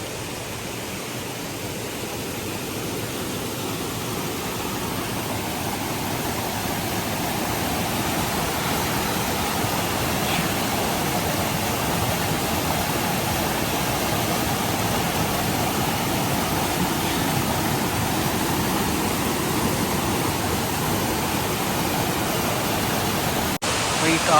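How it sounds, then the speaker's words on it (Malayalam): The Palchuram waterfall in a Kerala forest roars as a dense, constant rush of falling water, loud and steady throughout with no break. "അവസാനം പാൽച്ചുരം വെള്ളച്ചാട്ടത്തിലെത്തിയതാണ്"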